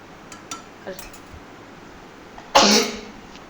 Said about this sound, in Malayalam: സോറി തുമ്മിതാണ്